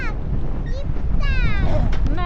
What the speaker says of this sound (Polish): ależ wiatr